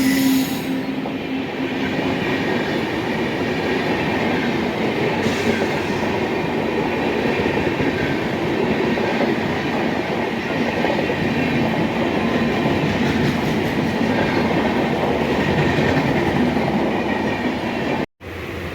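A Howrah–Belur Math local train rumbles steadily across a crossing, with continuous close, loud wheel and carriage noise and faint metallic squeal, unbroken for nearly the whole stretch before an abrupt cut near the end.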